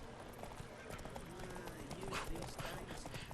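A horse gallops in The Witcher 3 video game, with rapid rhythmic hoofbeats pounding close by and a rush of movement, accompanied by talking.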